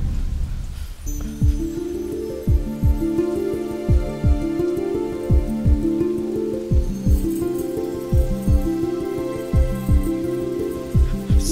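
Steady rain pours down in an outdoor scene from a Kannada feature film, with a continuous wash of drops and repeated low thumps running underneath it throughout.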